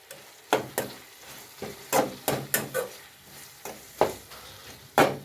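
Chicken masala being stirred in a frying pan, with a spoon scraping and turning the pieces in a steady, irregular rhythm over a soft sizzle, close and moderately loud, with no talking.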